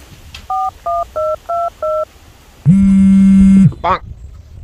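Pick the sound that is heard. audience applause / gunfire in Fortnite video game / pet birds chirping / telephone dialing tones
telephone dialing tones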